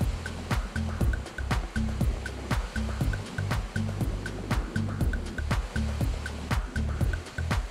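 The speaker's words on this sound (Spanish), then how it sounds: "Comenzamos a remar y a pesar de lo movido del agua" Choppy sea water off Contadora Island slaps and splashes rhythmically against a paddleboard, repeated sharp wave hits about twice a second over a continuous watery wash, close and fairly loud.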